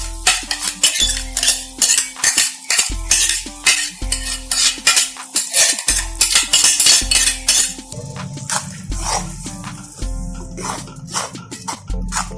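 A metal spoon stirs tomato gravy into a whole-onion curry (Rajasthani sabut pyaz sabzi) in a pan, giving loud, close, rhythmic scraping and clinking strokes with a faint sizzle underneath.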